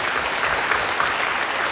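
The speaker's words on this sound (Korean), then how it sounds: "박수 한번 하실까요?" A church congregation applauds during a special Holy Week dawn prayer service, the clapping a brief, steady and even wash of many hands.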